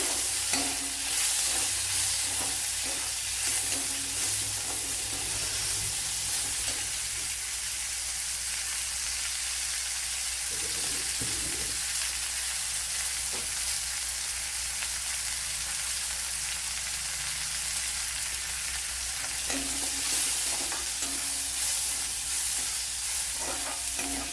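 Capsicum frying and being stirred in a pan for puttu uppumavu, a dense continuous sizzle with occasional scraping stirs, close and steady throughout with no voices.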